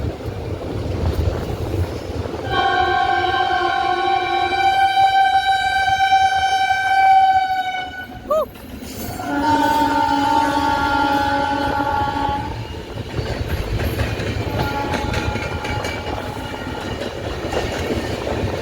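A goods train rolls past on the Ghaziabad line in India, heard from a moving passenger train: loud steady rumble and wheel clatter, with long horn blasts sounding twice before the noise fades.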